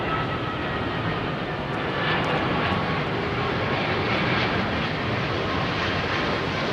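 A Boeing 747-400F freighter arrives at London Heathrow, its jet engines making a loud, steady, broadband roar that holds for several seconds at close range.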